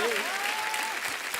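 Studio audience at an Indian TV comedy show breaks into steady, dense applause that fills the whole moment, with a sustained tonal whistle or cheer rising above the clapping.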